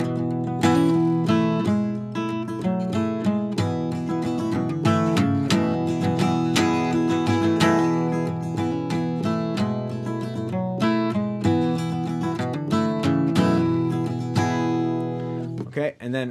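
An acoustic guitar strums a song with accents on certain beats, giving a steady, close, loud flow of chords that runs throughout with rhythmic emphasis.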